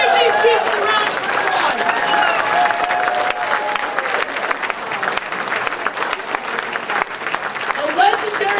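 Grassroots political gathering audience clapping for volunteers, a loud sustained round of applause with cheering, while a voice talks over the start.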